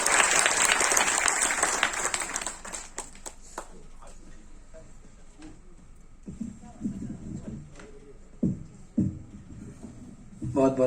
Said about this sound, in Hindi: जोरदार तालियों से आमंत्रित करें